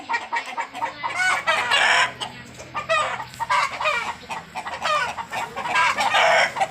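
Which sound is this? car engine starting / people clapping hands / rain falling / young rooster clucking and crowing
young rooster clucking and crowing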